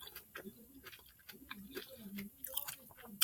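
Crunchy, partly raw spaghetti squash with mushrooms being chewed close to the mic, with a string of soft crisp bites and clicks at an irregular, tick-like rhythm and no talk over them.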